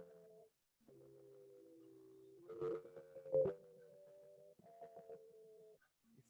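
A processed music sample, compressed and distorted and pitch-shifted up and back down, plays as sustained tonal notes that step between pitches, with a few sharp percussive hits in the middle and brief gaps of silence.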